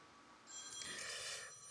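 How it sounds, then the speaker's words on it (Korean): A telephone rings faintly in a church during a Sunday sermon, a brief electronic ringtone rising after a quiet moment and carrying on for about a second, distant and thin against the room. "전화 오잖아요."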